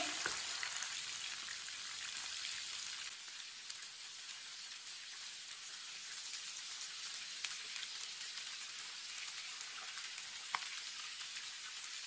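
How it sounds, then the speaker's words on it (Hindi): Chicken frying in hot oil, a continuous bright sizzle with faint crackles and occasional pops, steady and close throughout with no voices. "चिकन को 2 मिनट के लिए फ्राई होने देते हैं"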